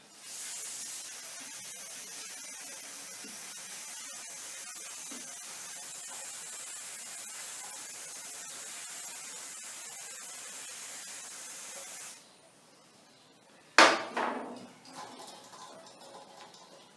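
Penrite chain lube sprayed onto a Honda CT200 motorcycle chain, a long continuous close aerosol hiss of about twelve seconds that stops abruptly, followed by a sharp clack.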